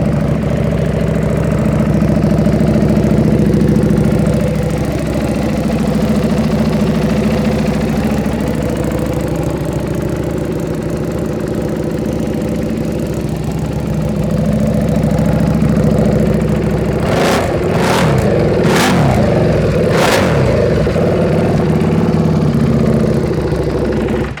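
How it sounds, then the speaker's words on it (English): A brand new Buell Fuel Hammerhead motorcycle idles with a steady, loud low rumble, then near the end gives a few sharp throttle blips in quick succession before settling back to idle. "Chris, thanks for giving us a little quick demo on your new Buell."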